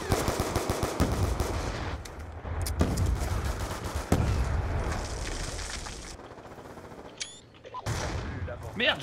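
Multiplayer gunfire in Call of Duty: Black Ops II, with bursts of automatic fire and scattered shots at moderate level, some sharp cracks, under and around a player's voice.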